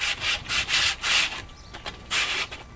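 The wooden board of a camper bench seat is sanded by hand in quick back-and-forth strokes, a close, rhythmic raspy rubbing in several bursts with a short pause near the end.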